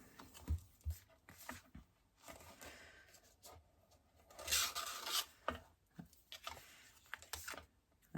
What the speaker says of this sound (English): I'm going to give that a really nice burnish